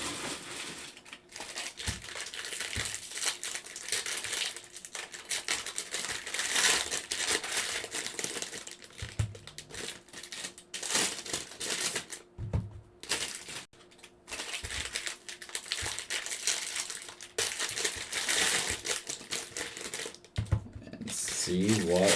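Crinkly foil wrapper of a Bowman Draft baseball trading card pack being ripped open, a steady close crackling and crumpling that runs for about twenty seconds with brief pauses, with a voice talking at points.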